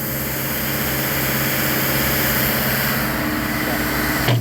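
An HP 20 grout pump by EZG Manufacturer idling up in cold-limited mode gives a steady, loud, broadband engine roar close by, holding even throughout before a brief change at the end.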